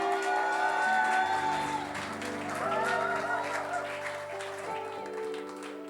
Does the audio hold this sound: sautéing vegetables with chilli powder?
no